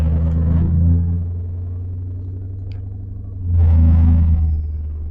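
The engine of a naturally aspirated Lincoln Mark VIII rumbles low and steady while the car is driven. The note swells louder for a moment near the end, then settles back to an even drone.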